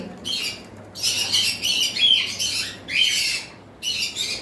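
A bonded pair of cockatiels gives repeated harsh, shrill squawks in close bursts with short pauses between them, loud and near, with no other sounds competing.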